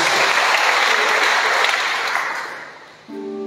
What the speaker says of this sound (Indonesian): Tepuk tangan buat Tuhan Yesus Kristus.